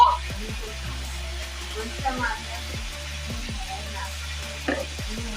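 Chicken soup with ginger garlic paste being stirred in a pot, a steady sizzle and frying hiss under repeated scraping strokes of a spoon at close range.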